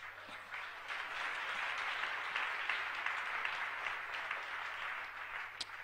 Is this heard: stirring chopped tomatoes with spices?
no